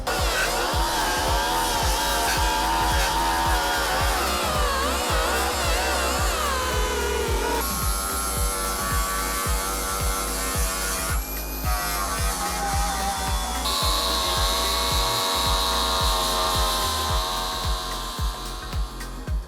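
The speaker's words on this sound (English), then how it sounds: "right now we're just taking off all the seam sealer right here" Power tool grinding seam sealer off the damaged quarter panel of a Mercedes CLS63 AMG, a steady buzzing whine with rapid chattering pulses running loud and continuous throughout.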